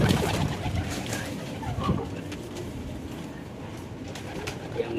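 Soft, low pigeon coos sound close by among light rustling and background noise, with no talking; a racing homing pigeon hen paired with a local free-flying pigeon cock.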